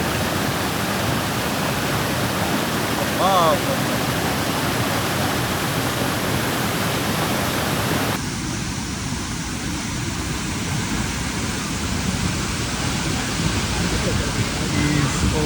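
A flooded waterfall roars in a dense, continuous wash of falling water, loud and close throughout, with the tone thinning slightly partway through; no voices stand out over the torrent.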